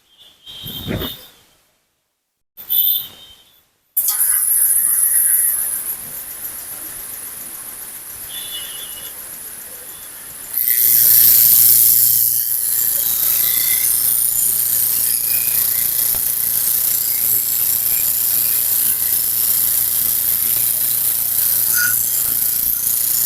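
A wood rounding machine turns square timber into round stock, sending out a steady, loud mechanical whir with a hum that runs continuously after a few short bursts and a pause, then grows fuller midway and stays level to the end.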